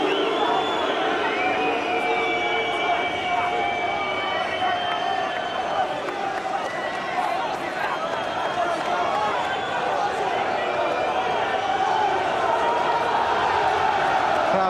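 A boxing arena crowd at a WBC super-middleweight title fight between Nigel Benn and Mauro Galvano roars in a steady, loud wash of voices, booing and murmuring continuously throughout.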